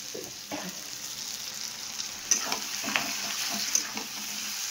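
A fish head fries in a pan while it is stirred, producing a constant sizzle broken by intermittent scraping and knocking of a spatula against the metal.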